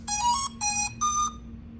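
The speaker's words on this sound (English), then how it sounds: "hold it until you hear the beeps" A drone sounds three clear electronic startup beeps after its power button is held, evenly spaced tones over a faint steady hum.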